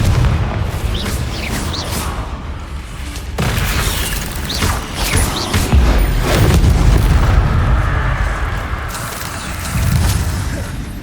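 Confringo explosion spells in Hogwarts Legacy go off as loud rumbling booms, with repeated blasts and crackling debris piling up over several seconds of continuous noisy combat.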